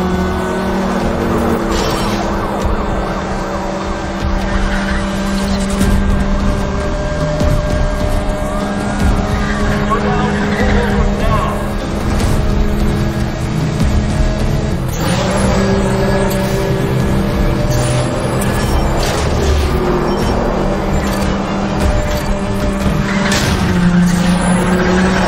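A Porsche 911 in a police pursuit in the racing game Need For Speed: The Run, with a roaring engine and repeated tire squeals and skids sustained loudly throughout the chase.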